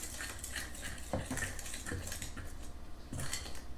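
Biscuit dough of two ingredients is stirred in a bowl, giving soft clinks and scrapes of a utensil against the dish, faint and close.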